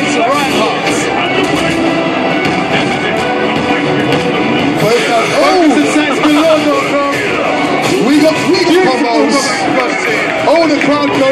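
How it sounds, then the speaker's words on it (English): A Street Fighter tournament crowd at Eurogamer 2013 roars continuously at match point, a dense, loud wall of cheering and babble with excited commentary running over it. "the crowd goes mental"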